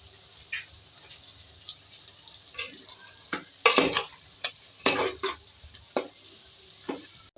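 A spoon stirs potato and cabbage gravy with green chillies in a pan, scraping in irregular strokes over a faint sizzle, close by with no voices.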